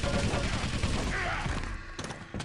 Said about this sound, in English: Quick little spawn frag puts Fiend back into the running.